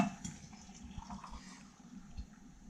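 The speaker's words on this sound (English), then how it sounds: "Now we're going to add hot water," Boiling hot water is poured into a pan to make syrup for Syrian baklava, giving a faint, steady liquid pour with soft gurgling throughout, alone and without talk.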